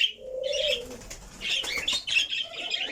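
Pet birds in a home aviary setup flutter their wings and call nearby, bursts of flapping mixed with short chirps and a low coo, no voices over them.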